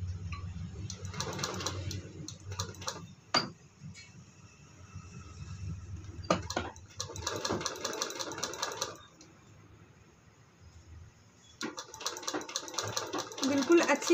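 Sewing machine stitching loosely around a winter socks boot for a newborn, heard in three separate bursts of rapid clattering with pauses between, and a voice speaking in the gaps.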